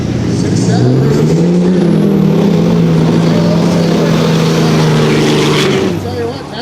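Dodge pickup truck roaring down a drag strip at a production truck drag race, a loud engine wail rising in pitch through the run and fading at the end, with an announcer talking over it.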